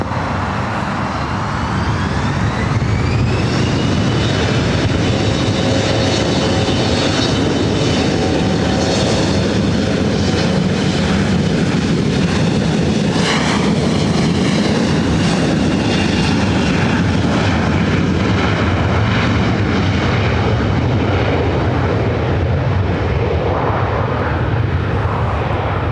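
A Horizon airliner takes off from runway 24 right at LAX, its engine roar loud and sustained as it spools up and passes, the whine shifting in pitch throughout.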